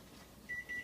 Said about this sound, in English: Okay, that is the timer.